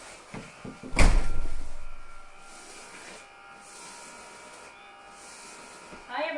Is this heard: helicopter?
no